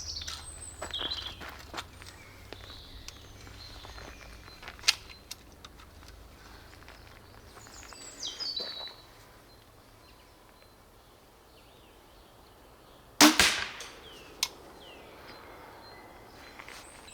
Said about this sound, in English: put it down and cock it just like a regular crossbow